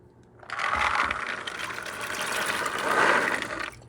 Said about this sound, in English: I'm going to take this water out, wash them again, and drain the water out